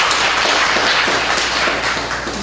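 Church congregation applauding during a Korean worship service: steady, dense clapping from a full room, close and loud, lasting the whole stretch without pause.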